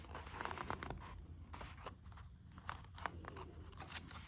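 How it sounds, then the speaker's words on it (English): Paper crinkles and rustles faintly up close as a sheet is folded by hand, with soft scattered crackles and brushing sounds and no voices. "we're going to grab the bottom of the paper and we're going to bring it up"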